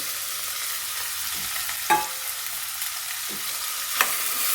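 Beans and onions fry in a pan for rajma curry, with a close, constant sizzle broken by a few scraping stirs of a spoon. No voices.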